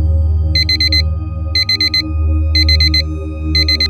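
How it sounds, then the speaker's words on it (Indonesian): An electronic alarm clock beeps in rapid bursts of four, repeating steadily over a low droning hum in the background. "kebangun tuh gara-gara alarmnya bunyi"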